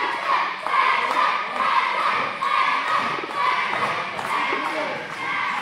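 Wrestling crowd at an NWA Bayou independent show cheering and shouting steadily, a dense continuous roar of voices filling the hall without any break.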